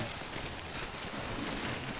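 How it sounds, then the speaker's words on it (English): Rain falls steadily in the video game Death Stranding, an even, close hiss of drops on the ground with a brief sharp high blip near the start. "You know you're in the rain."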